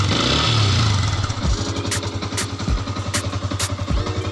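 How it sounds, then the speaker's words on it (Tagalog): Audi R8 on its stock exhaust, started and revved: a loud, close engine roar at first that settles into a rough, pulsing idle punctuated by sharp blips. "So yan yung tunog ng stock tambucho natin."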